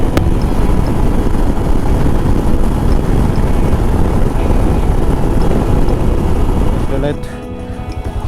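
A Royal Enfield Scram 440 motorcycle rides at speed on a road near Bhosari, with loud steady engine drone and heavy wind rush throughout that drops away suddenly near the end.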